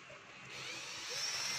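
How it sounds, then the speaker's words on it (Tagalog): A cordless drill whirs continuously, its motor pitch rising slightly as it spins up, fairly quiet and alone. "kinabit ko siya sa aking cordless drill"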